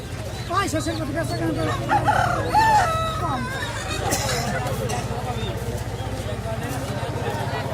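Roosters crow repeatedly and chickens cluck at a busy village chicken and duck market in Bangladesh, with people talking and a murmur of crowd chatter throughout.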